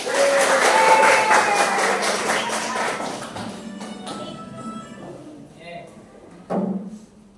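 Children clap in a classroom during a lesson: a dense burst of applause at the start that thins out over a few seconds, followed by quieter room noise and a single thump near the end.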